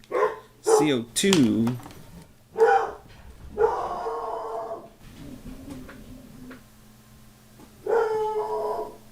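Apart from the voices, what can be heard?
dog barking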